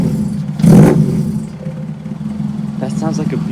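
A Toyota AE86 with a BEAMS engine swap fires up and idles roughly nearby with a short loud burst at the start, while people talk excitedly over the engine.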